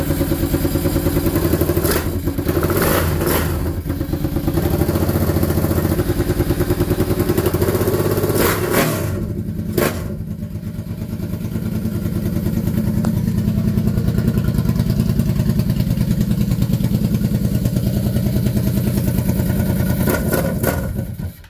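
A Kawasaki Brute Force 750 ATV engine runs steadily and roughly with its air box removed, a loud continuous rumble with uneven sputtering and a few sharp clatters throughout.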